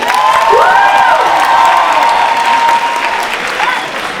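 An audience at a student rap-battle clash event applauds and cheers, a loud, continuous wash of clapping with whoops, and a tonal sliding sound rises and falls above it early on.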